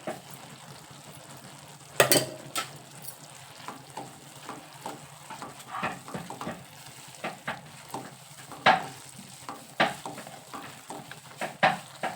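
Coconut burfi mixture stirred in a pan with a spoon of ghee, a soft continuous sizzle broken by repeated scraping strokes of the spoon, close and fairly quiet, with no voices.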